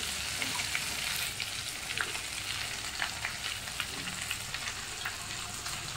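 Whole garam masala sizzles in hot oil in a pan, a quiet, steady frying hiss with small scattered crackles and pops throughout, no talking.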